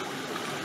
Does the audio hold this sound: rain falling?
no